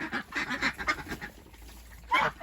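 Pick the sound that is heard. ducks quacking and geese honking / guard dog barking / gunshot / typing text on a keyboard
ducks quacking and geese honking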